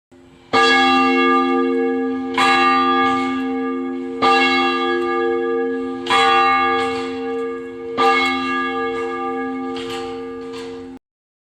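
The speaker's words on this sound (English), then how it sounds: "the bell is now heard echoing throughout the valley" A large church bell tolls steadily, echoing through a valley, about six strikes spaced a couple of seconds apart, each ringing out with a long, humming decay.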